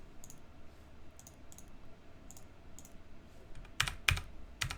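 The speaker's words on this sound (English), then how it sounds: "Sorry if my keyboard's loud." Soft keyboard typing with scattered key clicks, ending in a few louder, sharper keystrokes close by.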